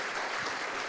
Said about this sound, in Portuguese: Vamos aplaudir o nosso Jesus